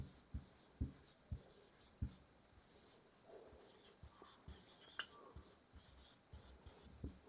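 Pen or chalk writing by hand during a music theory lesson, a sequence of short scratchy strokes and taps at an uneven rhythm, fairly close but quiet, with no voices over it.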